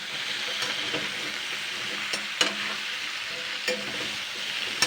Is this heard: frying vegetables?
yes